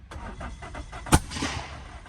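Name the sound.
car engine cranking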